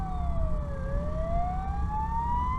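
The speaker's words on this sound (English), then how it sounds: "Where are the sirens coming from?" A police car siren wails steadily, its pitch sliding down and then rising again over a constant low rumble of traffic, with no one speaking.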